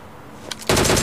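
Sudden loud burst of rapid automatic gunfire from PUBG Mobile erupts after a brief faint lead-in of two quick clicks, sustained and dense to the end with no voices.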